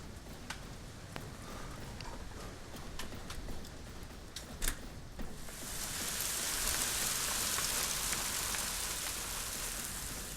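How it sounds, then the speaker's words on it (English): Hail coming down in a storm on the north coast of California: scattered sharp ticks and clatters at first, then building into a dense, loud, continuous hiss of hailstones pelting surfaces, with no voices. "Quite a hailstorm going on."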